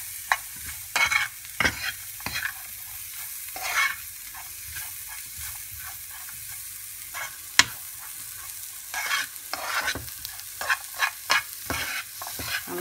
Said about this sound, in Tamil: சும்மா ஒரு 2 நிமிஷம் வதக்குனிங்கன்னா போதும்